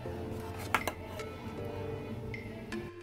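Utensils clink against a bowl while banana muffin batter with milk, butter, vanilla and egg is stirred, giving a few bright taps over a steady scraping background.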